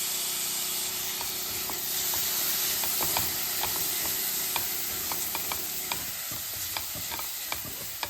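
Steady sizzling in a hot pan with scattered light scrapes and clicks as rice is stirred and sautéed, no voices.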